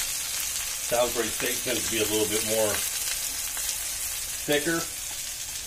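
Salisbury steak patties sizzle steadily in a hot pan, a constant bright frying hiss running underneath a man's speech throughout.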